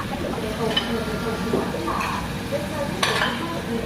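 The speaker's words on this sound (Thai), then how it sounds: "เปิดหม้อแรงดันออกมาครับ" A pressure cooker of Thai braised pork and fish stew is opened, bringing a steady bubbling, simmering texture with occasional clinks of metal, while voices talk quietly in the background.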